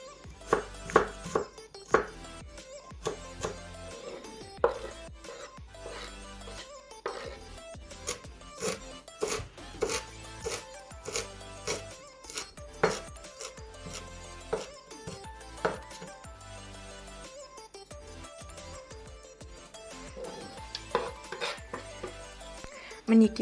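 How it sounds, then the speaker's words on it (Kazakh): Knife chopping garlic and fresh herbs on a cutting board for a cabbage salad, a close run of quick irregular taps with pauses, under occasional talk. "Сарымсақ пен ас көгімізді турап аламыз."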